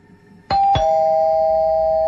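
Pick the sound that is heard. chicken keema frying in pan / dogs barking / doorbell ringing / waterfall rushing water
doorbell ringing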